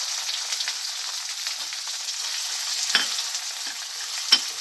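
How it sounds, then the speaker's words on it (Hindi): Black cumin seeds (kala jeera) frying in a pan for a cauliflower and potato sabji, giving a steady soft sizzle with a couple of brief stirring scrapes, close and alone. "अब इसे थोड़ी सी फ्राई कर ले"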